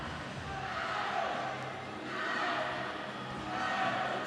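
Crowd cheering at a swimming trials meet for a breaststroke/IM race, a broad steady roar that swells in waves, with commentary-like voices mixed in.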